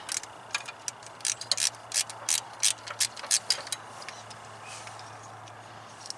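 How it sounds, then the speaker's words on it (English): A 7mm ratchet loosens the single bolt holding an EGR solenoid, giving a close run of about a dozen quick, sharp mechanical clicks in a fairly even rhythm, then a quiet stretch with a low hum underneath. "Take a 7mm and loosen this one bolt that holds the solenoid."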